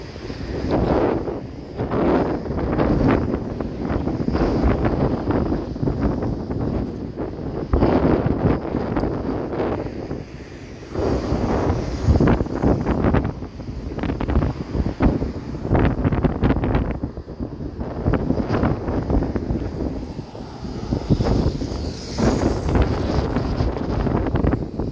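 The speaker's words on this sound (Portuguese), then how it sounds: "Olha só o vento como tá forte, gente." Strong wind roars and buffets the microphone continuously outside the Expo Center convention centre in Recife, Brazil, with loud gusting rumbles and bursts throughout.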